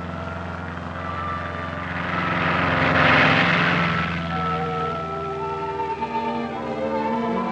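A propeller plane's engine drones steadily in flight, swelling louder as it passes close by and then settling back to a constant hum, with no voices.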